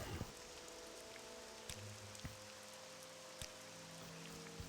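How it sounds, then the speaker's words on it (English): Rain patters steadily over Vvardenfell in Morrowind, a soft even hiss with scattered drops and a faint low hum beneath, no voices. "As it starts to pour down with rain here in Vardenfell"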